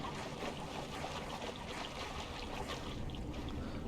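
Steady rushing water from a waterfall beside a stronghold in the video game Star Wars: The Old Republic, a continuous even wash of broadband noise at moderate, constant level with no voices.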